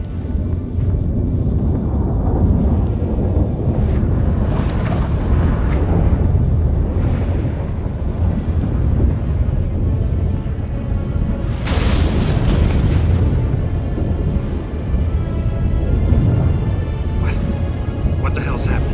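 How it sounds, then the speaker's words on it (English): A thunderstorm in the video game The Witcher 3 Wild Hunt: deep rolling rumbles and booms over a steady wash of rain, with sharper thunder cracks partway through and in-game voices speaking over it. "What the? That a storm?"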